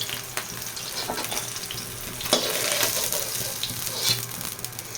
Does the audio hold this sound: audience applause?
no